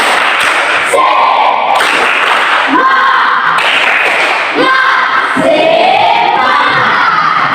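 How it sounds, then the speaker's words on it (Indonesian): Students in an Indonesian classroom doing rhythmic spirit clapping, loud patterned claps and thuds in bursts with group shouts and chanting voices between them, lively and close. "Tepuk semangat."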